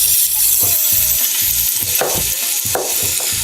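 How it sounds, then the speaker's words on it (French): Onions hit a hot pan and sizzle loudly and close, a bright hiss with rhythmic scraping and stirring knocks against the pan, with no one talking. "Donc là, je rajoute les oignons"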